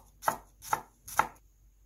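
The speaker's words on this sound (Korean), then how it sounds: "생강과 마늘은 최대한 가늘게 채 썰어 주어야 합니다." Ginger and garlic being finely julienned with a knife on a cutting board: three crisp, evenly spaced chops, close and clear, with quiet pauses between.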